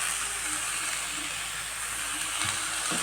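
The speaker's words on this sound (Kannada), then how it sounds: "ಕಡಾವಿಗೆ ಉಳ್ಳಿಗಡ್ಡಿ ಹಾಕಿ ಫ್ರೈ ಮಾಡೋಕೆ ಇಡ್ತೀನಿ ನೋಡಿರಿ" Sliced onions fry in oil in a kadai pan with a steady, close hiss and sizzle that runs through the whole stretch, with a few faint knocks near the end.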